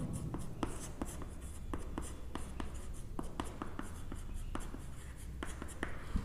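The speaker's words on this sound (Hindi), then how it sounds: "तो मैं यहाँ लिख दे रहा हूँ" Chalk or marker writing on a board during a physics lecture on lenses, with repeated short scratching strokes in an irregular rhythm, close and clear over a quiet room.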